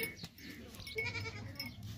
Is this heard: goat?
yes